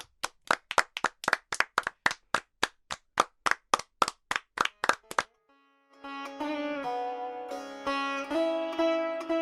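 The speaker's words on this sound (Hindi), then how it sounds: "ठीक है, तालियां सभी के लिए।" Classroom children clap for everyone, a fast run of sharp, evenly spaced claps for about five seconds, then a short pause before sustained tonal music takes over.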